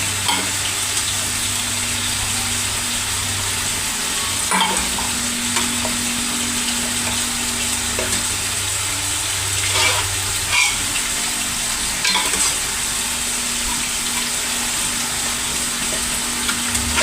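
Food sizzles steadily as it fries in a pan, with occasional scrapes and clinks of stirring rising above the constant crackle throughout.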